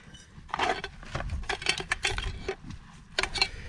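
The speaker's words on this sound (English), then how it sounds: "So it is just a frying pan and a saucepan." Close metallic clinks and light rattles as a camping frying pan and saucepan are picked up and shifted around, in irregular bursts with no talking.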